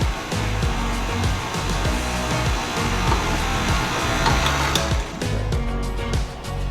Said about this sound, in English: we're gonna just let that mix on a medium speed until it's kind of creamy